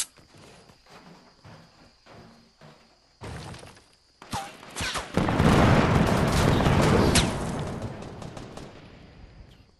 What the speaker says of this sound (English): It's all like some pretty big explosions. Yeah, C4.